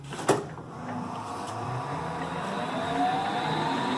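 A Clausing Colchester 12 lathe gear head runs in its lowest gear, a steady close mechanical whir and hum with a faint rising whine and an early click, continuous throughout.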